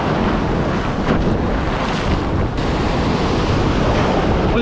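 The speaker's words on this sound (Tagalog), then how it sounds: "Halimaw na Alon." Strong storm waves crash and surge on a shore, a continuous loud roar of surf with gusts of wind buffeting the microphone and no speech.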